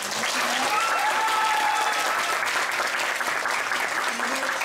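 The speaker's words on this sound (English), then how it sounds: "So can we give a round of applause for our presenters" A dense, steady wave of audience applause at a K-pop dance showcase, sustained and fairly loud throughout, with faint cheering voices mixed into the clapping.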